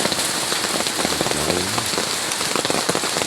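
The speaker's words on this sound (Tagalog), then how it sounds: "Na basang-basa ng ulan" Steady, close rain pattering densely on surfaces continues throughout this short stretch, with a faint tonal sound briefly in the middle.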